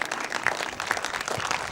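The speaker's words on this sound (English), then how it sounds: "Give him a big round of applause." Steady crowd applause from spectators at a grasstrack motorcycle racing meeting, dense continuous clapping at a moderate distance with no clear voices on top.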